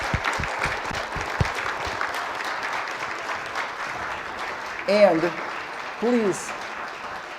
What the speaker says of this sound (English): I would like a big round of applause